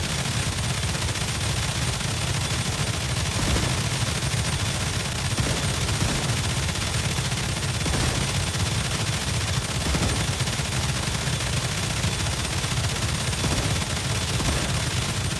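Steady distant gunfire in the video game Star Rupture, a continuous dense crackle of shots with no pauses, fairly loud and with no talking over it.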